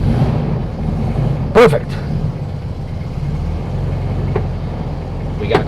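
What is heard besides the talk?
1964 VW Beetle engine starting with choke reset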